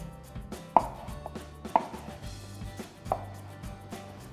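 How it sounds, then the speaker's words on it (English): Figs with their stems removed are cut into quarters with a kitchen knife on a board, giving three crisp, separate chopping knocks spaced about a second apart, close and clear with no talking. "take the stems off, and then just chop the fig,"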